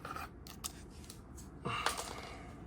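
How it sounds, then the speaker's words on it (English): Twist ties being unwound from the packaging of a Jurassic World Epic Attack Spinosaurus Slash figure, heard as close, scratchy plastic-and-wire scraping with a few sharp clicks and a louder crinkling burst near the end. "Let's unscrew these like so."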